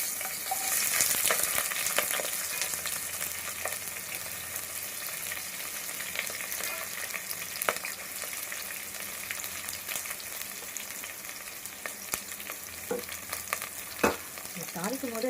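Onions sizzle and fry steadily in hot ghee, with occasional clinks and scrapes of a spoon stirring the pan.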